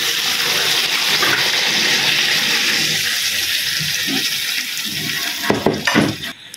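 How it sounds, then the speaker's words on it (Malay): Water poured into a cooking pot holding a crushed tomato for asam pedas, a continuous rushing splash that thins out, followed by a few clanks of the pot near the end. "Bila kita masukkan air."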